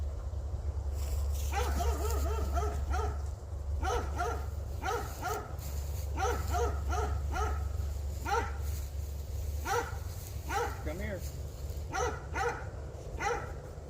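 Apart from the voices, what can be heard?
dog whimpering and barking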